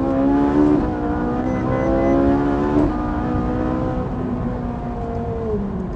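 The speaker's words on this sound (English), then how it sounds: "Do you want to hear some engine noise?" A Ferrari 458 Italia engine revs loudly, its pitch rising and falling in sustained howling sweeps for several seconds, close and unbroken.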